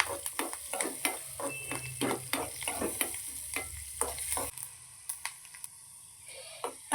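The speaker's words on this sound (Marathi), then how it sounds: "छानपैकी तळून घ्यायचं आहे छान कलर येऊपर्यंत त्याला भाजून घ्यायचं आहे" Garlic frying in a pan for homemade garlic bread, a steady close sizzle punctuated by repeated sharp scraping stirs, about a dozen strokes, with the sizzle dropping away partway through while the stirring knocks continue.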